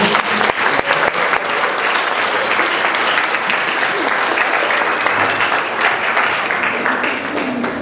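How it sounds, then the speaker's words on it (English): Sustained applause from a sizable crowd at a girls' soccer banquet, steady dense clapping throughout with no talking over it. "we're going to go ahead and give a round of applause to our freshman team."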